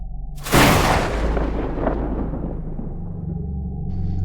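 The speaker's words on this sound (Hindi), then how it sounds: "आसमान में अचानक बिजली सी कड़कने लगी थी।" Thunder crack used as an effect in a Hindi horror story set on a dark night near a farmhouse: a sudden loud boom that rolls out into a long, fading rumble.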